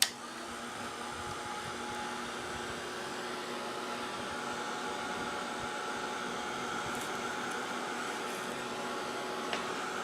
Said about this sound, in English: Now I'm just going to go ahead and hit that with the heat gun real quick to dry it.